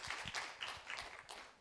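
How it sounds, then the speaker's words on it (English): A small audience at a conservation workshop gives the panel a brief round of faint, scattered clapping that sounds thin and somewhat distant. "just like to give a round of applause for our panel"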